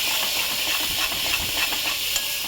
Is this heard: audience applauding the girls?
no